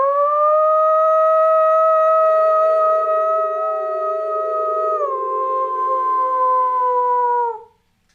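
A person imitates a wolf howl, one long sustained tonal wail that holds steady, dips in pitch partway through and then fades out, loud and close with no other sound.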